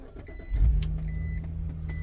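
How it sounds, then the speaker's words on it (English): A BMW inline-six engine cranks and catches after a key turn, a short starter whir giving way to a loud low rumble that settles into a steady idle close by. "let's start this BMW up, clutch in, turn key"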